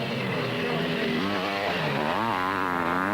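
A 500cc Husqvarna motocross bike races across loose, dusty dirt, its engine revving and rising in pitch, loud and continuous with other machines droning behind it.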